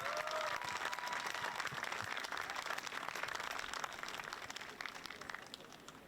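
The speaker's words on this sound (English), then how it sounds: "Let's give him a round of applause." A crowd claps at a college ribbon-cutting ceremony for a transportation technology center: dense, sustained applause heard from a distance, tapering slightly, with faint murmuring voices.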